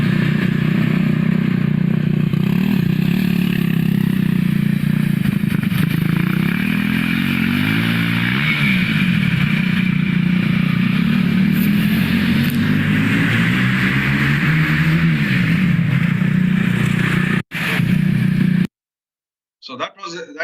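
An engineering students' vehicle test driven, its engine a loud continuous drone with rattling and shifting revs, close by, before cutting out near the end.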